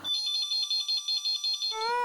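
An electronic phone ringtone trills in a rapid, pulsing pattern of bright tones, loud and close, then cuts to a short rising melody.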